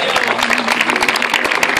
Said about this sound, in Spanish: El aplauso para Julián Moreno